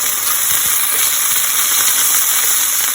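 Onions and sweet peppers sizzle in a pan, a dense, steady hiss that stays loud and close throughout with faint stirring ticks and no voices.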